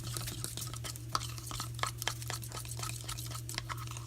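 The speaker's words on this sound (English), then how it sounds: "Stir it up." A sauce made with soy sauce being stirred in a bowl, with quick repeated clinks and scrapes of a utensil in a steady rhythm over a constant low electrical hum, close up and with no talking.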